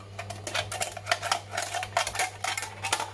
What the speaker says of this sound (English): So you just stick your scissors in, just normal scissors will do it,